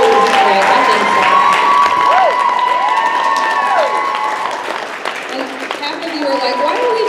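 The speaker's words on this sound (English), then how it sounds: "let's all give a big round of applause for Amy." An indoor audience applauds and cheers for an award winner at a live event. The clapping is dense and sustained and stays loud throughout, with voices and shouts mixed in.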